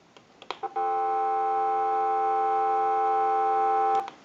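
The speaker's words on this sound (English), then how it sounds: "give you some dial tone" Steady telephone dial tone from a handset under repair, a continuous multi-tone hum lasting about three seconds, preceded by a few short clicks and cut off cleanly at the end.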